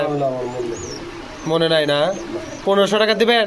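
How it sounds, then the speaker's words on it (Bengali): Pigeons cooing at a pigeon farm in Bogura, soft throaty coos mixed in beneath a man's conversation in Bengali. "এটা নতুন কবুতর তো ডাকিচ্ছে কম"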